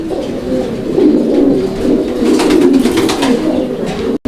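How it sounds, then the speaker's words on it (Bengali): A flock of Afsan grizzle pigeons coos loudly and close by, their throaty calls overlapping into a dense, continuous chorus with no break. "প্যাডটা একদম উড়া দুরা ডাকের কবুতর"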